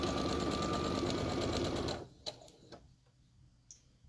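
A sewing machine stitches a padded fabric trinket box, a fast, steady mechanical whirring and clatter for two seconds that stops abruptly, followed by a few faint clicks and handling sounds.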